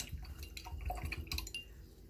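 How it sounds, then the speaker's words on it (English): Paintbrush being rinsed in a small container of water, soft faint sloshing and dripping taps in an otherwise quiet room. "Washing my brush."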